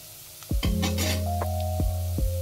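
Cashews sizzling in a hot pan, a soft frying hiss under several metallic clinks and scrapes of a spoon stirring against the pan, close and moderate in level.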